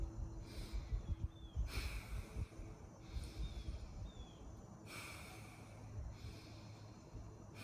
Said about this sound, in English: Just by breathing in a certain way, like I just did right now.